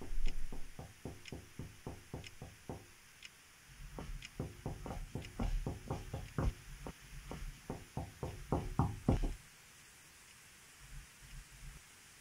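Repeated knocking in the horror video game Horror Noodles, sharp raps in quick bursts of eight to a dozen, fairly close and loud over a low ambient hum, pausing briefly and then continuing before stopping.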